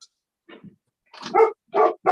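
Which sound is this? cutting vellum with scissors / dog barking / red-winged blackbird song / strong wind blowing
dog barking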